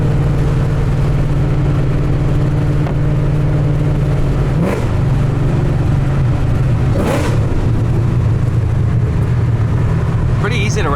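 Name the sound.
modified 2007 Shelby GT500 engine revving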